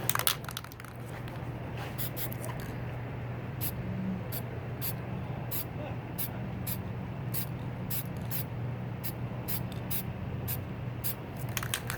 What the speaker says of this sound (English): It's a quick, easy little spray paint cloud technique right here.